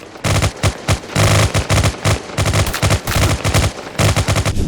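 Gunfire in a mobile first-person shooter game: loud, rapid bursts of automatic shots in quick stuttering volleys with brief gaps, close and alone with no talk.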